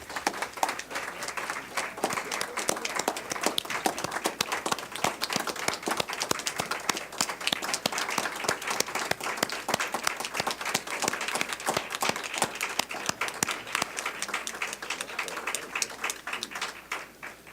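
Sustained applause fills a board of trustees meeting, dense steady clapping from a seated audience lasting throughout with no pause, a few sharper individual claps standing out near the front.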